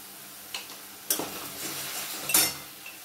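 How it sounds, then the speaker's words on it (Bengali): Spices being stirred in a pan for pointed gourd chutney: a few short, separate scrapes and clinks of a spoon against the pan over a faint sizzle, with quiet gaps between strokes. "ভালো করে নাড়িয়ে নেব।"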